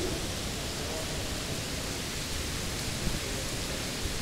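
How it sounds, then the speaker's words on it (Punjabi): Heavy rain pours steadily at Darbar Sahib Kartarpur, a dense, unbroken hiss of falling water that stays loud and even throughout with no pauses. "بارش ਹੋਰ ਤੇਜ਼ ਹੋ ਗਈ"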